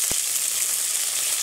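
Green chili and curry leaves fry in hot oil with a dense, even sizzling hiss and a single sharp pop near the start.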